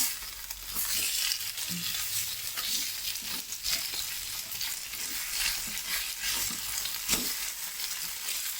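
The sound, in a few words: chicken frying in pan, pressed with a stone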